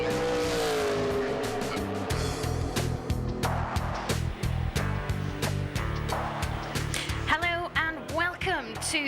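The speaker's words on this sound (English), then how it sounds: "Those mammoth V8 roaring through." Mammoth V8 Speedcar stock cars roar past at Dubai Autodrome, loud engines surging and fading one after another, with gear changes, tyre squeal and a busy race-day wash of noise throughout.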